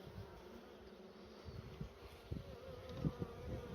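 A honeybee swarm, freshly shaken into a hive and fed sugar syrup, makes a steady, close, droning buzz with occasional louder whirs and small knocks.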